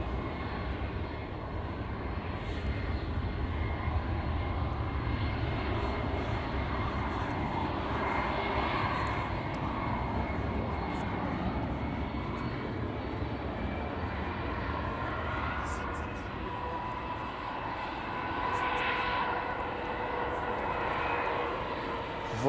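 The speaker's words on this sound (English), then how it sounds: "Over here we have Hans' favorite Vueling flight 8315 going to Barcelona in a few moments." A Vueling airliner on flight 8315 to Barcelona rumbles at Amsterdam Schiphol, a continuous distant engine roar that holds steady and swells slightly near the end, with faint talk underneath.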